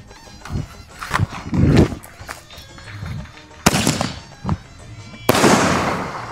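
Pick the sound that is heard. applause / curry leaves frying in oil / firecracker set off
firecracker set off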